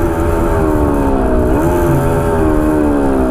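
A small motorcycle (a moped with a 75 km/h top speed) revs at a Race Wars motor festival: a loud, buzzing engine close by that rises and falls in one sharp rev midway, then settles into a steady drone.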